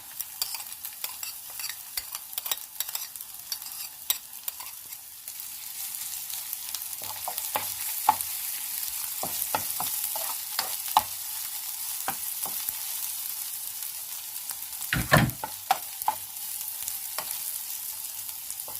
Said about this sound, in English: I'll let them brown together